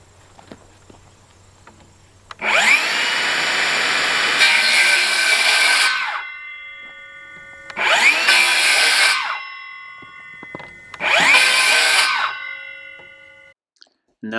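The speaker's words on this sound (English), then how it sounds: "Now I'm just using my circular saw to cut slits in this PVC" A circular saw cuts slits in PVC pipe in three loud bursts, each a few seconds long, with the blade whining down between cuts.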